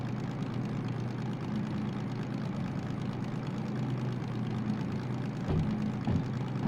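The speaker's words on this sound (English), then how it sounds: "It's just that engine sounds terrible," A rough-running locomotive engine dragging slowly through a tunnel, a continuous heavy low drone with a faint knock, steady throughout and briefly thumping near the end.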